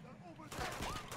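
Gunfire crackles in the video game Uncharted 2, a burst of sharp rapid shots in the background starting midway, with a voice speaking over the quiet lead-in.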